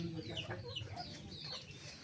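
Chickens and a rooster on a Bangladeshi village farm give soft, quick clucks in a brief, quiet stretch, a low murmur of farmyard noise beneath them.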